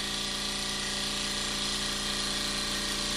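A Wilesco D52 model marine steam engine runs with a continuous, even mechanical hum and a fine rapid beat, steady throughout with no talking.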